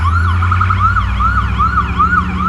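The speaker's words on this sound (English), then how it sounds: "A 911 call comes into county dispatch and an ambulance is on its way." A wailing ambulance siren on a US county EMS vehicle responding to a 911 call, loud and close, with repeated rising and falling sweeps over steady road engine rumble.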